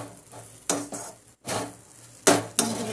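Chana dal being stirred and sautéed in a pan for a sweet, with a spoon scraping the pan in repeated sharp strokes over a soft background sizzle.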